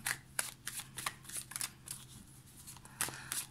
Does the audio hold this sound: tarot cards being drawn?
yes